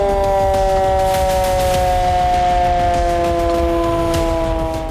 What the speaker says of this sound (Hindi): मेरठ में मॉक ड्रिल से पहले सायरन बजाकर इसकी जांच की गई